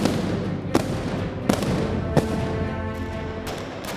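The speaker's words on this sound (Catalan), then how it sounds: "the thunderous shots of the arquebuses" Arquebus shots fired during the Moors and Christians festival in Crevillent, a few sharp separate bangs spaced about a second apart, then more further off, over a continuous crowd murmur.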